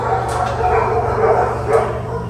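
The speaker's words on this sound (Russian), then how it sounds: "О, там собачка." A small dog barks and yips a few times nearby, its sharp calls cutting through the background while people talk.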